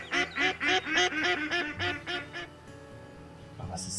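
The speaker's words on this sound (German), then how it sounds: "Also Enten gibt es hier ohne Ende." Ducks quack in a rapid series of about nine calls in the hunting game Way of the Hunter, loud and close, then quieter outdoor ambience with a short distant call near the end.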